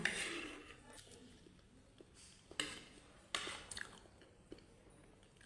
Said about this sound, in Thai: ทานข้าวเสร็จแล้วก็ต่อด้วยกล้วยน้ำว้า